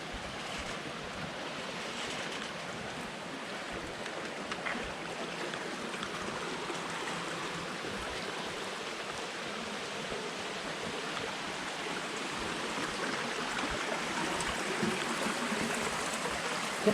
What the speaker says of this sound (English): Just listen how relaxing this is. The water going through